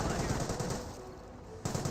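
Bren guns on a Bren carrier in Company of Heroes fire a rapid, continuous rattling burst that carries through most of the moment, with a second flurry near the end.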